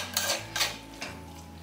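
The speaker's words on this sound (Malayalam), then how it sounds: "ജസ്റ്റ് നന്നായിട്ടൊന്ന് എല്ലായിടത്തും കായം കൂടെ എത്തുന്ന രീതിയിൽ ഇളക്കിയെടുക്കാം" A spoon stirs green chilli pickle gravy with asafoetida in a pan, giving three or four soft scraping strokes against the metal, close and quiet, with no talking.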